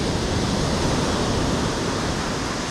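Heavy sea swell breaking on the shore at Blackpool Sands, a loud, steady wash of surf with no distinct breaks and no voices over it.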